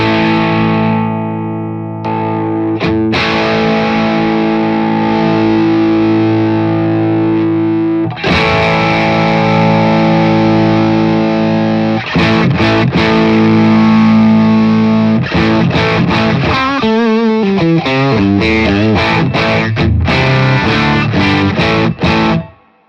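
An electric guitar runs through stacked overdrive pedals, a fuzz and a Tube Screamer, producing loud, saturated sustained chords that later break into quick, choppy strummed phrases with brief pauses.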